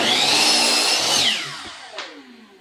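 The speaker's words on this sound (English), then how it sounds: "So what I'm gonna do is actually trim off the a couple inches before I actually start cutting." A power saw cuts through the end of a wooden fence picket, with a loud high whine that drops in pitch as the cut finishes and the blade winds down, followed by a short clack.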